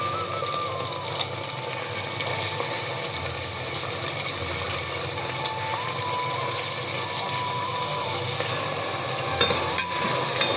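Soaked, washed avarekalu beans fry in oil with a continuous close sizzle and faint stirring scrapes, a few louder clicks near the end, no talking.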